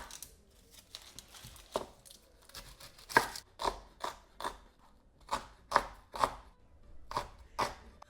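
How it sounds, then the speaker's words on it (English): A knife finely chops onions on a board for a fish curry, with about a dozen close, crisp, irregular taps, some in quick pairs, over a quiet background. "And I just need to finely chop these up."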